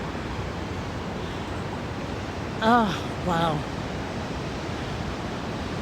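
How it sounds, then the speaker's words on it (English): A reservoir spillway in the Hudson Valley runs heavily, and its water rushes as a loud, steady, broadband roar throughout, with a voice briefly exclaiming over it. "I haven't seen the spillway running like this in quite a while."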